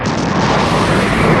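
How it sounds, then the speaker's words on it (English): A loud, dense explosion sound effect filling the whole short span, a sustained roaring blast of broadband noise with deep rumble and no talk over it. "That's the sound of the countdown exploding in your face."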